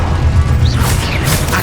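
Expelliarmus spell effect from the Hogwarts Legacy video game, a loud burst of magical whooshes and crackling impacts with rising sweeps, close and dense.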